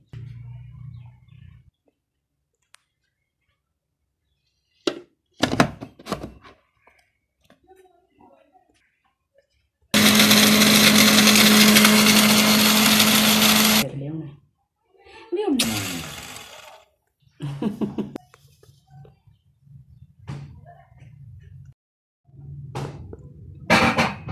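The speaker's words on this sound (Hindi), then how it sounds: "अब हम इसे भी ग्राइंडर में डालकर अच्छे से पाउडर कर लेंगे।" An electric kitchen grinder powders roasted spices and nutmeg, running in one loud, close whirring burst of about four seconds. Clattering handling noises come before and after it, and a person speaks at the start.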